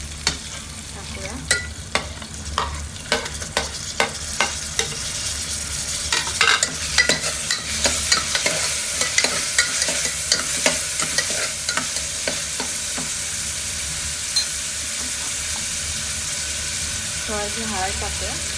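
Onion and tomato fry in a pan for tadka dal khichdi, a steady sizzle broken by repeated sharp scrapes and clinks of a spoon stirring the mixture throughout, close and fairly loud with no talking.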